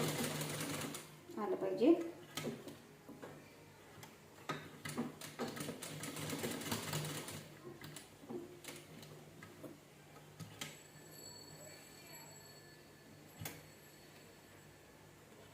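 A sewing machine stitches the seams of a princess-cut blouse with quiet, steady ticking runs broken by short pauses. Someone talks over the machine as it works.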